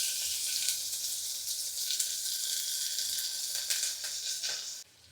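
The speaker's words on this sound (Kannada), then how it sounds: "ನೋಡಿ, ಫ್ರೈ ಆಗ್ತಿದೆ" Chopped onions sizzle steadily in a pan with dried red chillies for a radish saru, a close, continuous frying hiss that cuts off abruptly near the end.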